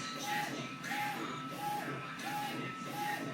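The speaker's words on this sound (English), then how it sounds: "So I'm gonna go ahead and print those now, just so you guys can see what this printer looks like on its own." A DTF printer running at its lowest speed gives off a steady mechanical whir with a repeating carriage pass and soft tonal hum about every half second, close and continuous.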